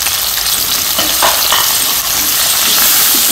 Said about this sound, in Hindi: ये हो गया अच्छा सा तड़का तैयार इसका